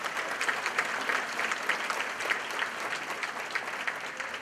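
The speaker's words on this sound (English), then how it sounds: "Let's give them a round of applause." Applause at a spring conference gala for honored legislators, a steady, moderately loud crowd clapping that runs evenly throughout with no voices over it.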